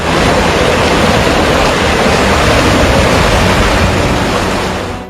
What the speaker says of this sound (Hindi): कई फ्लाईओवर के नीचे 10 फीट ऊंचाई से पानी बह रहा है।